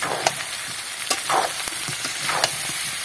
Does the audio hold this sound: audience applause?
no